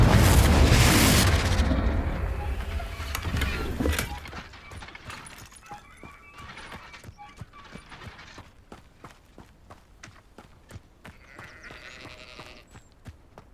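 Confringo, an explosive spell in Hogwarts Legacy, goes off at once as a loud roaring boom that fades over about four seconds. A long run of quick, regular mechanical ticks and clicks follows, with faint bleating in the background.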